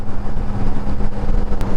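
A truck rolls past on a seaside road near Revdanda, Alibaug, a loud, close, continuous engine and tyre rumble filling the moment without speech.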